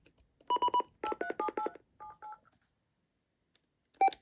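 An RCA 25424RE1-A phone plays transfer tones: a quick sequence of clear, close dialing-style beeps, several short bursts in a row, then a pause and one last tone.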